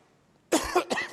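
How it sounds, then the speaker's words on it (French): A single harsh cough, close and loud, in two quick bursts after a moment of near silence. "pardon, parce que je tousse"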